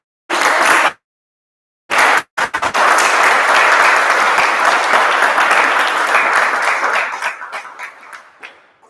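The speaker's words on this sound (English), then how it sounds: "Can we have a huge round of applause for all three?" An audience at a Toastmasters club joint meeting breaks into loud, sustained applause after two brief cut-off bursts, dense clapping holding steady before tapering off toward the end.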